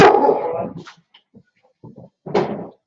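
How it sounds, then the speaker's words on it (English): A dog barks loudly up close, a sharp burst at the start, then quieter yips and whimpers, and another bark near the end. "What are you barking about, bub?"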